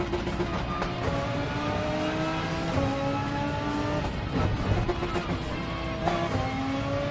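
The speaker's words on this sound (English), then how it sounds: "I'm racing the Audi right now." Audi race car in a PS4 racing game, engine droning steadily with rising gear-change sweeps and occasional tire squeal, loud and continuous without talk.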